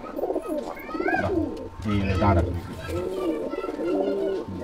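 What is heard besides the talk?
pigeons cooing in a pigeon loft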